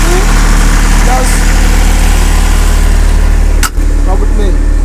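A generator engine idles loudly and steadily close by, a constant low droning hum with mechanical vibration, briefly interrupted by a sharp click, while someone talks over it.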